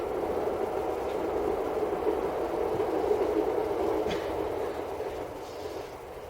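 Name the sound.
passing train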